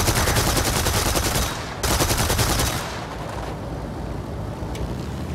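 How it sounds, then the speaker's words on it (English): Two loud, rapid bursts of aircraft cannon fire in War Thunder roar one after another, followed by a steady engine drone. "A couple bursts for my cannon"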